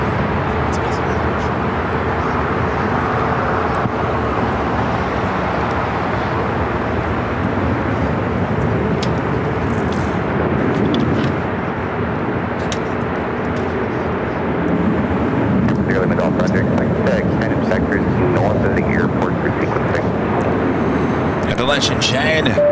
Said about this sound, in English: This is American Airlines 1292 taking off to Nashville on the